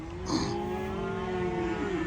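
A large bull at the Pollachi cattle market lets out a long, deep moo close by, a loud sustained bellow lasting about two seconds over faint background noise.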